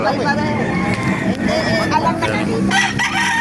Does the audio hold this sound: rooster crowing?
yes